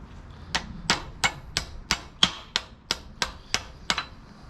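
Hammer tapping on wood while fitting floating shelves: eleven sharp, evenly spaced knocks, close and fairly loud, in a steady rhythm with no talking.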